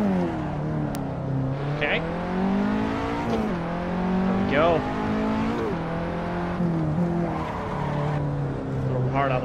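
A rented KTM X-Bow lapping the Nürburgring Nordschleife in a racing game, the engine note rising and falling through gear changes, with repeated sharp tire squeals through the corners, loud and constant, and someone talking over it.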